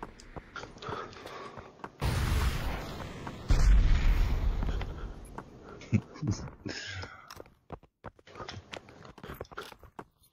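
Rocket launcher blasts in an online shooter video game: heavy booming explosions with crunching debris, loudest in two long bursts early on, then scattered sharper impacts and quieter rumbles, with no talking.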